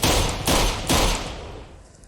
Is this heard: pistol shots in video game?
yes